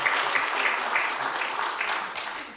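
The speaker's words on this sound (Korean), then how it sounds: "Let's give a round of applause to God and thanks." Church congregation applauding during a sermon, a continuous dense patter of many hands clapping at moderate distance, steady throughout with no voices over it.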